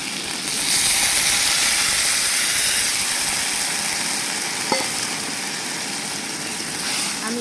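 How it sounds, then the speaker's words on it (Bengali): Water poured into a pan of fried chicken hisses into a loud, steady sizzle of steam that rises quickly and holds for several seconds, easing off slightly toward the end. "এবার এর মধ্যে আমি জল দিয়ে দিই।"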